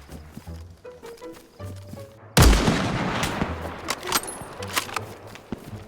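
One sharp, loud gunshot in the video game DayZ rings out and then fades into a rumbling tail, followed by scattered clattering and occasional speech.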